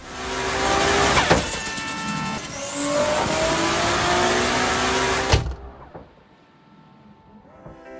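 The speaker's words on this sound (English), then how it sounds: "The manufacturer conducted an amusing experiment by revving up a Toyota Supra in a garage" A Toyota Supra engine revs hard inside a garage, loud and close with rising pitch and sharp bangs, then drops abruptly to a faint, muffled hum for the last few seconds.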